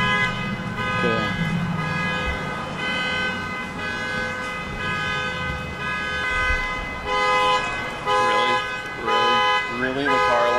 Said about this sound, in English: The car alarm goes off while we're trying to film right here.